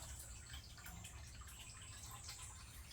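Water flowing into a rainwater storage tank on a farm, a faint, steady trickling and splashing with small drips heard from nearby, with no voices.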